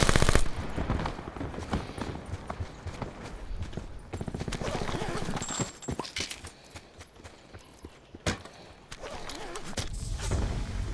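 Rapid gunfire from a shooter video game, loud and dense bursts of shots running almost continuously, with sharp single cracks standing out near the end.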